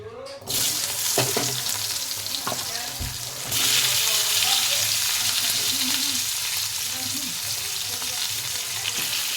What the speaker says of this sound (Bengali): ওই কড়াইতে আমি ডাঁটা আর আলু ভালো করে ভেজে নেব একসাথে দিয়ে।